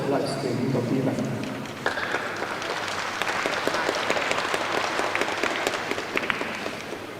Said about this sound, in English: Please give a round of applause for the media and for the people responsible for the live streaming of the event.